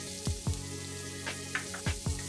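Green peppers frying in a hot pan for beef baked beans, a steady sizzle broken by a few sharp crackles and scrapes as they are stirred.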